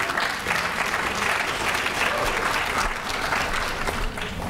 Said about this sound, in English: thanks for that smattering of applause there